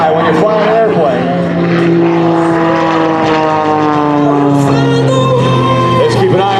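Patty Wagstaff's aerobatic propeller airshow plane screams past low at over 200 mph for a ribbon cut at Joint Base Andrews, a loud sustained engine drone with shifting pitch and faint crowd shouts.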